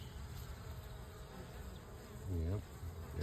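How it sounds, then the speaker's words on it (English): Honeybees buzzing around an active beehive during a hive check, a soft steady hum with a brief louder buzz as a bee passes close by. "Bees are there."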